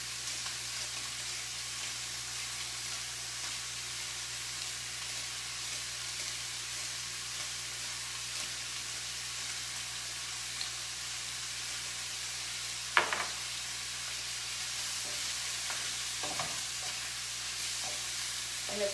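Garlic shrimp fry in a pan with salt and cracked pepper, giving a steady, close hiss of sizzling broken by a few sharp clicks and taps of a utensil toward the end, with no talking.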